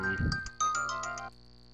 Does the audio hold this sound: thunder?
no